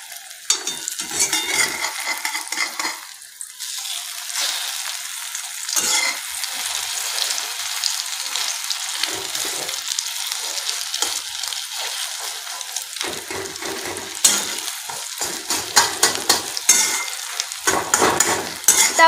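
Egg bhurji sizzles and fries in a pan while a spatula stirs, scrapes and flips it in uneven bursts. The sizzle is close and fairly loud, with no talk.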